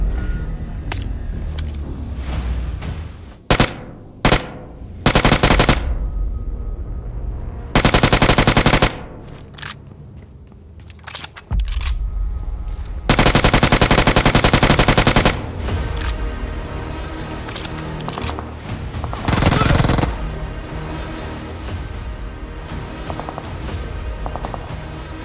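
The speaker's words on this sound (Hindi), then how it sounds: "तभी मुझे गोलियां चलने की आवाज आती है" Gunfire in a BGMI match: bursts of automatic weapon fire rattle out in several sharp, loud volleys, some short and some sustained, over a steady background hum of a vehicle engine.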